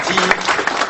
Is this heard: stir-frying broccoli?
no